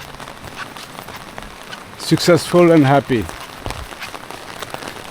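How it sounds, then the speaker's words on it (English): Rain falls steadily in a town in Dipolog, Philippines, a constant soft patter heard close by. Someone speaks briefly over it partway through. "It's raining."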